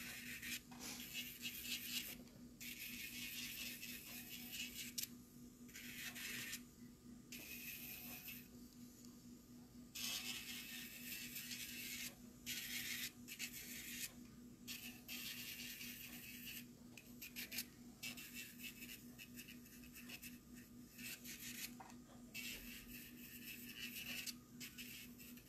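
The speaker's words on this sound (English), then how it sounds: "I'm using the diamond moonbit to remove that dry skin and prep the nail bed" A steady, high-pitched electric nail drill with a diamond bit whirs continuously, removing dry skin around the nail bed, its grinding rasp rising and dipping in short bursts over a constant motor hum.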